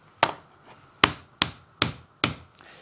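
Steak pounded with a meat hammer in a home kitchen, five sharp separate thuds at an uneven pace, close and loud with no talking.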